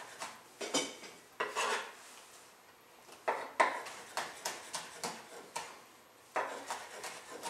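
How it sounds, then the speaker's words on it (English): Knife chopping tomatoes pressed flat, meat side down, on a cutting board: a series of sharp, close knocks in irregular bursts, sometimes single and sometimes in quick runs of several taps, with no talk. "We're going to press those down, meat side down, and cut them into small pieces"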